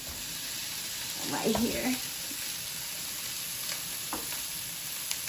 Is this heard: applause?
no